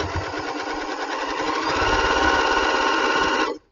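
A heavy-duty sewing machine runs continuously at a fast, even stitching rhythm for a few seconds, loud and close, then stops abruptly.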